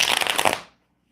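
A deck of tarot cards is riffled in one quick shuffle lasting about half a second, a close, crisp flutter of flicking cards that stops abruptly into near silence.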